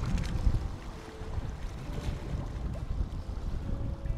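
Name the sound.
calm water sounds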